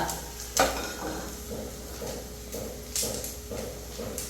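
Chickpeas frying in a pan with a beef and Chinese potato dish, a soft continuous sizzle broken by a sharp utensil clack and regular scraping stirs that scrape and crackle every half second or so.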